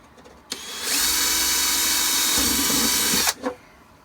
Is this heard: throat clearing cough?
no